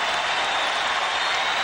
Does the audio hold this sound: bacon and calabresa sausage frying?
no